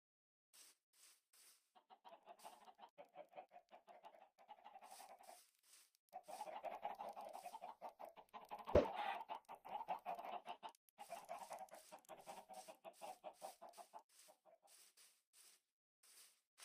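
Minecraft chickens making soft repeated clucks and short bursts in irregular clusters, faint and close, with one sharp click midway.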